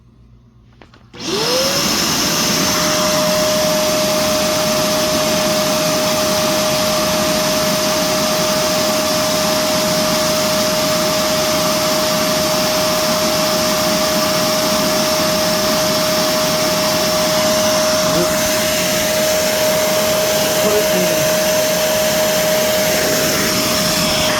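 Shark CarpetXpert EX201 carpet cleaner switched on in deep clean mode, the motor jumping to a loud, steady roar with a constant tonal whine that runs unbroken at close range.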